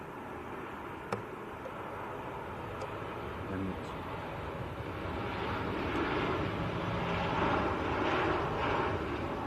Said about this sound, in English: Air France is taxiing out as well